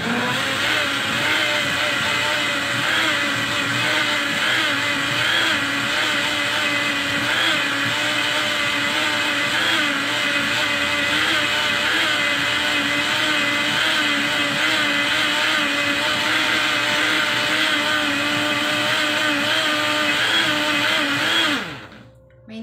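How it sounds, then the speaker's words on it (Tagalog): A blender making mango, banana, apple and milk juice whirs steadily at high speed for a long stretch, loud and close, then spins down and stops at the end. "Makikita nyo na naka-blender ng ganito."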